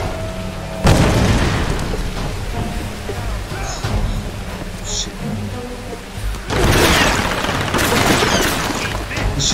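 Gunfire and loud booming blasts in the Tomb Raider video game, heavy bursts near the start and again later, with softer crackling shots in between.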